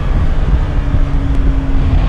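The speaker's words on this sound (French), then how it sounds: "On va faire une petite insertion sur l'autoroute, on va voir ce que donne ce moteur." A Triumph Tiger 1200 Alpine motorcycle engine accelerates onto a motorway, its steady, loud drone partly buried under heavy wind rush for about two seconds, with no talking.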